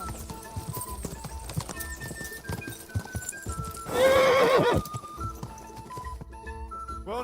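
Hooves clip-clop steadily as a horse moves in Kingdom Come: Deliverance II, with a loud, close whinny bursting out midway before the hoofbeats carry on.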